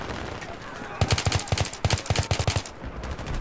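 Rapid gunfire in the first-person shooter Battlefield 3: loud, close bursts of repeated shots in a steady automatic rhythm, with short pauses between volleys.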